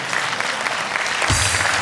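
Audience applause at a women's club show, steady crowd clapping that swells near the end as a low rumble of music or stage sound joins in.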